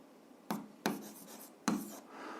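A pen scratches across paper in three quick strokes, close and quiet in a still room, while algebra steps for a seventh-grade exercise are worked out.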